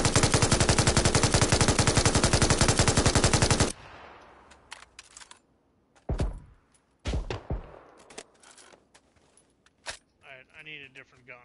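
Rapid sustained automatic gunfire in a video game, a loud dense burst lasting several seconds, followed by scattered single shots, clicks and metallic clatter among quieter game sounds.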